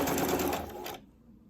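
A sewing machine stitches ribbon for a two-color tutu, running in a loud, steady buzzing burst for about a second before stopping abruptly, leaving quiet room tone.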